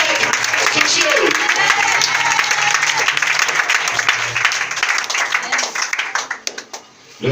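A church congregation applauds and cheers loudly and steadily for several seconds, a dense wash of clapping with crowd voices, fading out near the end while a preacher speaks over it.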